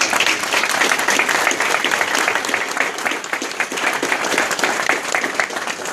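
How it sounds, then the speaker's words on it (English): Steady, full applause from the crowd at a ribbon cutting for a new traffic operations center, many hands clapping continuously and close for several seconds with no talk. "One more big round of applause."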